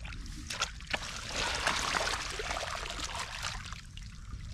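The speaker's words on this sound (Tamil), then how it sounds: "இப்போ வந்துட்டு வாய்க்காவுக்கு வந்து எல்லா தண்ணியும் ஓடிடும், வடிஞ்சிடும்" Water drains out through a freshly dug channel, a steady close rushing and trickling flow that swells in the middle and keeps running throughout, fairly quiet overall.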